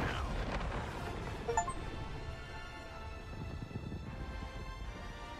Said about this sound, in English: Oh, he called a barrage.